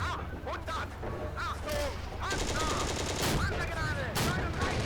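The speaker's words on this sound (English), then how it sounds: "Okay, load an anti-tank shell." Tank cannon firing an anti-tank shell in the Steel Fury WWII tank game set during Operation Barbarossa: repeated booming blasts and cracks of game gunfire throughout, over steady engine rumble.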